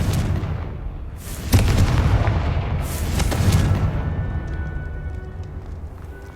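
The Confringo fire spell goes off in Hogwarts Legacy as a heavy, close explosion with a sharp boom, followed by rumbling blasts and a lingering low roar.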